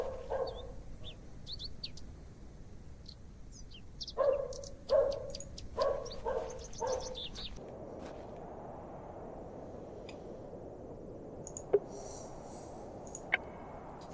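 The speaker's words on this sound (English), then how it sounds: "That's a dog." A dog barks in a video game, a few sharp repeated barks in short clusters amid sparse bird chirps and a quiet ambient background.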